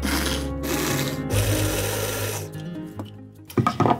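A food processor whirs loudly as it chops bunya nuts and Warrigal greens, the motor pitch shifting between pulses, then stopping near the end with a few clatters.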